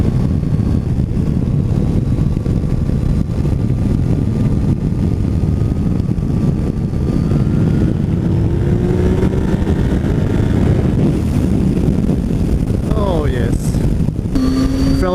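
A new motorcycle rumbles along at a steady low drone while strong wind buffets continuously across the whole stretch, loud and close, with a faint rising whine near the end.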